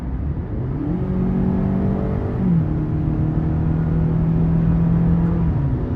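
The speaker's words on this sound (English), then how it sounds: "I'll put in the sport mode now, and it will get the revs quite a bit higher" A 2018 Toyota RAV4 XLE 2.5 engine revs steadily in sport mode with a rising then held whine, a continuous mid-pitched drone with rumble underneath, close and fairly loud.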